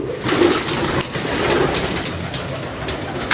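Pigeons coo close by in a few soft, rolling low calls over a steady background rustle, with no voices.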